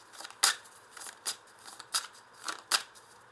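Tarot cards being shuffled by hand, soft riffling bursts repeating about every half second, close and fairly quiet with no voice over them.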